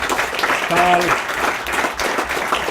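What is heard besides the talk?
audience applause at research forum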